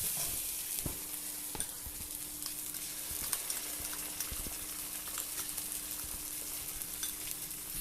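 Monopia fish with poppy seed paste and green chilies is stirred and fried in a pan, producing a faint, even sizzle with sparse, light spoon taps and scrapes.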